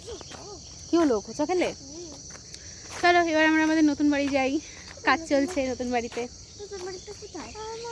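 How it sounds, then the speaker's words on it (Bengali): A constant high, thin insect trill of crickets rings in the background while people talk nearby in short bursts over it. "চারিদিকে ঝিঝি পোকার ডাক"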